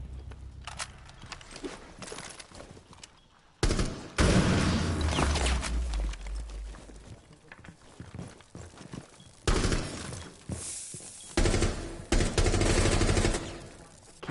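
Gunfire in Rainbow Six Siege comes in scattered bursts of loud automatic shots and single cracks, with quieter stretches of movement and ambient noise between them.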